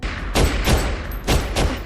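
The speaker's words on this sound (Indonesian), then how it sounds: "tembak-tembakan." Rapid bursts of gunfire crackle through an action film shootout, four dense volleys arriving in quick succession with booming low ends and a continuous wash of noise between them.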